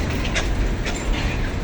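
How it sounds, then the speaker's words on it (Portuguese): A freight train departing through the town of Itapipoca, Ceará, Brazil, a loud, close, steady rumble with faint rhythmic clacks of wheels on rail, no voices. "O cargueirão partindo."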